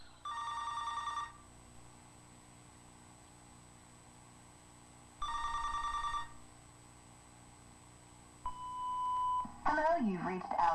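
Telephone ring bursts sound twice with a pause between, then a voicemail-style beep tone leads into a recorded greeting voice, with steady electronic hum underneath.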